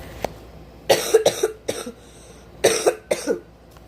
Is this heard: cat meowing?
no